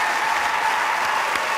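Audience applause for the Hereford Cathedral Junior School choir at a school choir competition final, steady dense clapping at full volume throughout without a pause.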